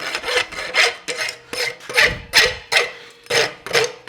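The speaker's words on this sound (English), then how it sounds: "I use the corner of the rasp for a nice shine on it" A farrier's rasp files a steel horseshoe during specialty shoe forging of a hunter front shoe: about ten rhythmic, close, gritty scraping strokes, each a short rasping sweep with brief pauses between.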